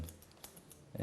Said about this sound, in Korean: 싱글링으로 시술할 때는 가위가 잘 드는 걸로 하셔야 돼요